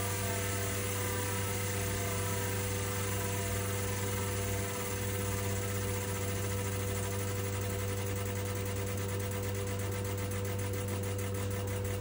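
An ultrasonic fuel injector cleaning and testing machine runs with a constant, loud, steady mechanical hum and whine. A faint periodic ticking appears toward the end, and no one speaks.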